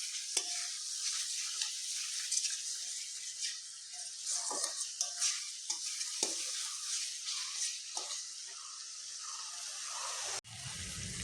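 Spiced masala for a jackfruit curry fries and sizzles steadily in a pan, with a spoon scraping and stirring through it in repeated strokes, close and continuous.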